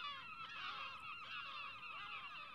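Great black-backed gulls, large aggressive seabirds, call in a harsh, continuous chorus of overlapping honking cries on the Isle of May, loud and dense throughout with no talk.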